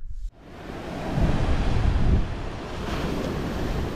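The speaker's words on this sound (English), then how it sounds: "as you can tell, it's super windy out here" Strong wind buffets the microphone on a Bahamas beach while waves surge and break nearby, a loud, continuous roar that swells midway and then settles into a steady rush.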